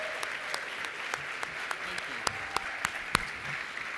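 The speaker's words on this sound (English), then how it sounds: "Please join me in giving them a round of applause for helping make this year's competition a huge success." Audience applause at the American Advertising Awards 2019 ceremony, a fairly soft, sustained patter of clapping with a few sharper individual claps standing out near the end.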